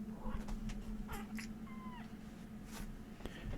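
A house cat gives one short, faint meow with a rising-then-falling pitch, set against a low steady background hum.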